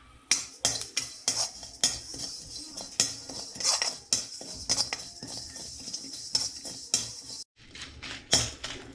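Cumin seeds dry roasting in a pan without oil, with repeated metallic scraping and clinking of a spatula against the pan in an irregular stirring rhythm, close and fairly loud, with a brief pause near the end.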